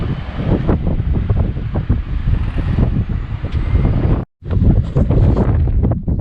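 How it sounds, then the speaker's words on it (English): Strong wind on Last Stand Hill in Wyoming buffets the microphone with loud, rough rumbling gusts, cutting out briefly once before roaring back. "Apologize for the wind."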